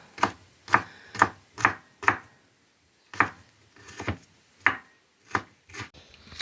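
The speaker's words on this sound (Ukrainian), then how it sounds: "Сережа ріже перчик на ікорку" A knife chops bell pepper on a cutting board for eggplant caviar, sharp close knocks in a quick rhythm, about a dozen strikes with a short pause midway, no talking.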